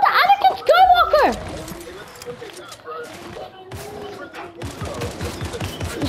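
Gunfire in the video game Fortnite Chapter 5, with a few sharp shots early on and later bursts of rapid repeated fire, mixed under excited young voices talking and shouting.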